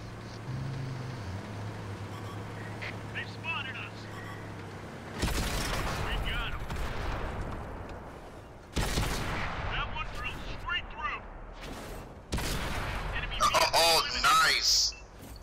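Gunfire in an online shooter video game, with several loud bursts of shots and booms arriving in separate clusters, set against background game noise and a player talking.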